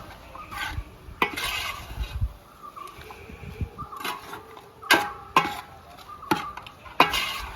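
Jackfruit mash (chakka kuzhachathu) is stirred in a hot pot, with a spoon scraping and knocking against the metal. Several sharp clanks stand out over a soft bubbling sizzle.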